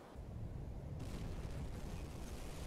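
Torpedo striking a ship in the submarine game UBOAT, a heavy rumbling explosion that bursts in and keeps roaring and crackling at steady loudness with no voices.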